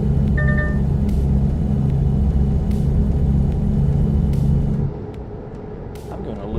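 Inline-five engine of a vehicle driven in American Truck Simulator, a loud steady low drone with a sharp change partway through, then a quieter idle, with a person talking over it.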